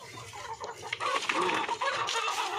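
Home-bred chickens cluck and stir in a crowded coop beside a house, with soft overlapping clucks and a brief flutter close by, fairly quiet with a low hum underneath.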